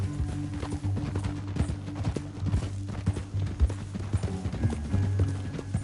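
Horse hooves clatter in a fast, steady galloping rhythm in Red Dead, heard close and continuous with no talk over them.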